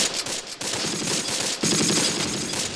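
Gunfire from a Panzer IV tank battle in the Close Combat war game, a steady dense crackle of shots with a louder burst about midway, continuing without any voices.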